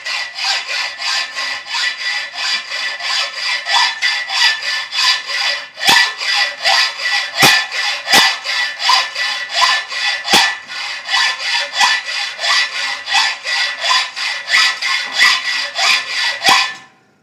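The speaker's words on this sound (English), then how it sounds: "take our hacksaw and just simply" A hand hacksaw cuts metal stock for a crankshaft truing jig, close and loud, with steady rhythmic rasping back-and-forth strokes continuing throughout and occasional sharper clicks between strokes.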